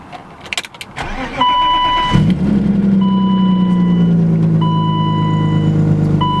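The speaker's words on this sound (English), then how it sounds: "This is the first time me starting up in the morning, so it's gonna idle kind of high until it warms up." A BMW E34 starts cold with a short cranking whir, then catches and settles into a loud, steady high idle close by, while a repeating electronic chime beeps at regular intervals over the engine.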